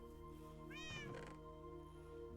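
A cat gives a single short, rising meow, fairly faint, over a steady low hum. No one speaks.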